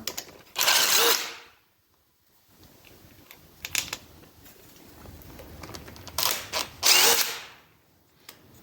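DeWalt power tool with an extension removing bolts during a D722 engine teardown, two loud close bursts of whirring and rattling, one near the start and one near the end, with quieter clicks and handling noises between.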